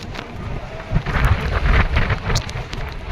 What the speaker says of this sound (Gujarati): પવન તો જો